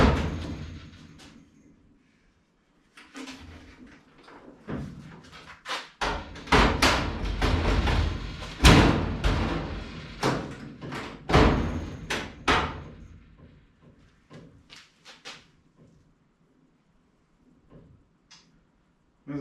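Car door being worked on after a new fender is fitted: a string of loud knocks, thuds and a couple of hard slams close by, with quieter handling before and after.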